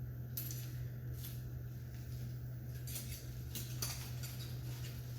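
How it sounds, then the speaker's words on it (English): A titanium fork and long-handled titanium spoon clink together in a few light, sharp metallic taps spread over several seconds, quiet over a steady low background hum. "we have titanium fork and a titanium long handle spoon"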